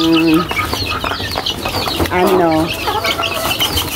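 Chickens and chicks clucking and peeping close by on a hot day, with overlapping calls and a few louder squawks, some wing flapping and faint background voices.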